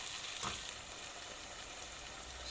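Steady, dense sizzling of chicken and okra frying in a hot pan, continuous and fairly quiet, with no voices.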